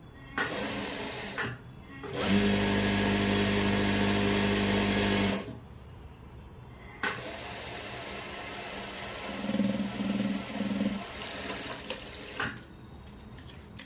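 A sewing machine stitches a kurti sleeve in bursts, with a loud, steady whirring run of about three seconds followed by shorter, quieter stitching runs and fabric handling.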